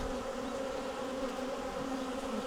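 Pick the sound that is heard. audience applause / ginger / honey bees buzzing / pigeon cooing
honey bees buzzing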